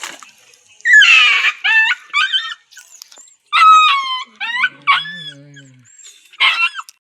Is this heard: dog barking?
yes